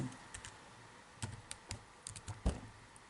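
Quiet keystrokes on a computer keyboard while entering a complex-number multiplication in MATLAB, a loose run of light clicks with a few firmer taps, close and alone.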